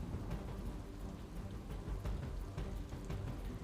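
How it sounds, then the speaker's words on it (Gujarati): Heavy monsoon rain pours down steadily in Kerala, a dense continuous wash of close, loud rainfall with occasional low rumbles mixed in and no voices. "કેરળમાં ધોધમાર વરસાદ ખાબકતા મુશ્કેલી વધી છે।"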